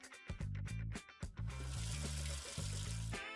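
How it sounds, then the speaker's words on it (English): Hands washed under a running tap in a sink, water splashing steadily and close with a few brief pauses and bursts as the hands move in and out of the stream, no talk. "I wash my hands for 20 seconds"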